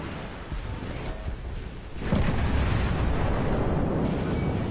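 A naval gun salvo fired from the battleship Amagi in World of Warships: a sudden heavy booming blast halfway through that rolls on as a loud, sustained rumble.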